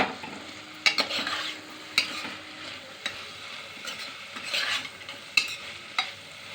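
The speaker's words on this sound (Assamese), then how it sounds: "এতিয়া মই ইয়াত পনীৰখিনি দি দিম। আকৌ এয়া মই লৰাই দিছোঁ।" Paneer frying in a pressure cooker for veg pulao, stirred with a spoon: repeated scraping strokes and clinks against the metal over a soft sizzle, close and moderately loud, with no talk.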